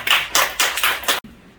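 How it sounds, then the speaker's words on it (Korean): A few bursts of hand clapping at a church press conference marking UN Korean War Veterans Day, four rhythmic swells of applause that cut off abruptly, leaving quiet room tone. "박수를 드립니다"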